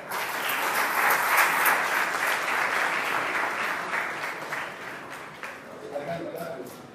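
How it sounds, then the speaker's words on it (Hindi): Loud, sustained applause from an audience at an awards ceremony for an ornamental fish farmers' trust, dense clapping that swells early and then slowly fades, with a few voices mixed in. "जोरदार टाळ्या."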